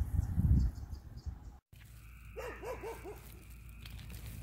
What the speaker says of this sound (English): That's the dog Daisy, but listen.